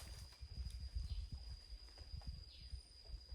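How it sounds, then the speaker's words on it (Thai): Footsteps of a person walking in a forest, a run of irregular soft thuds and rustles at moderate distance over steady low background noise, with no one speaking. "เสียงเหมือนคนเดินทางนู้น"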